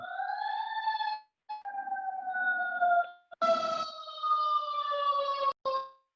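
An emergency siren wails with rising and falling tones, loud and steady, cutting out briefly a couple of times.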